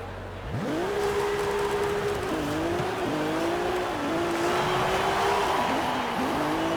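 A stock Ferrari in an Italian exotic car pack for a racing game starts up and revs, its engine note climbing and falling through several gear changes, loud and close with no talk.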